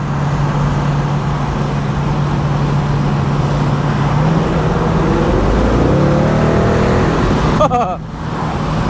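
A Race Red 2016 Ford Mustang GT Roush Stage 3 convertible, top down, accelerates hard. Its engine note climbs loudly in pitch over several seconds before easing off, with wind roar and some talk beneath.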